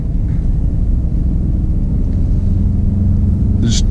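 A Ford F-150 Raptor pickup truck's engine accelerates, heard from inside the cabin as a loud, steady low rumble and drone with a brief hiss near the end.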